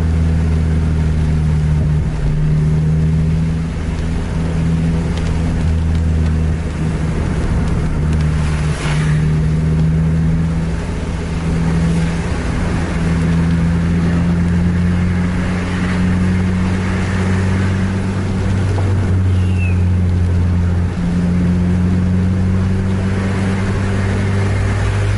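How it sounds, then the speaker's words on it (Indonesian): A racing bus with a loud aftermarket knalpot exhaust drones steadily from inside the cabin, a low rumbling hum with slight revving swells that holds for the whole stretch without a break. "Untuk suara knalpotnya udah swoosh ini"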